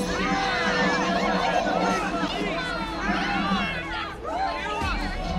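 A dense murmur of many voices fills the scene, a steady video game crowd hubbub with shouts rising out of it, loud and continuous throughout.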